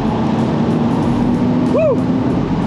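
A Porsche 986 Boxster engine holds a steady, loud drone at high revs while driving, with road and wind noise all the way through and a brief faint whistle partway through.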